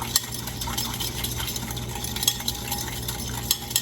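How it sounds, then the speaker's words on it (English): A whisk beats sugar and salt into lime juice in a bowl, giving a continuous close scraping swirl with sharp clicks against the sides. The sound holds steady and moderately loud with no talking. "So I'm going to whisk this together until it's well incorporated."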